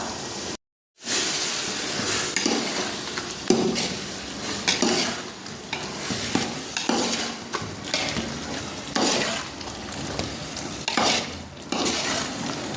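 Steady scraping and stirring of spices in a sizzling biryani pot, with clinks of a spoon against metal, close and continuous, no voices.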